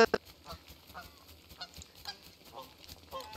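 A goose in the video game Don't Starve Together honks repeatedly in short, fairly quiet bursts over a low background hum.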